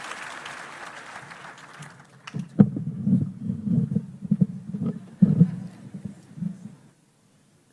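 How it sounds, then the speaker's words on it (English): An audience at a formal ceremony in Kenya honouring the deputy president breaks into loud, sustained applause after a quiet start, then fades out. "Let's give her a warm round of applause."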